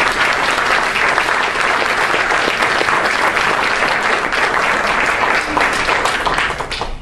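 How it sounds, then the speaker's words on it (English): A healthcare forum audience gives the panelists a sustained round of applause, dense and loud clapping that fills the whole span evenly before easing slightly at the end. "A round of applause for everybody"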